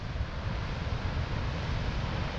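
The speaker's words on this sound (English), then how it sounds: "The waves is just so ferocious." Ferocious North Sea waves crash beside an abandoned medieval Scottish castle, a steady, dense roar of surf mixed with heavy wind buffeting the microphone, loud and continuous with no voices.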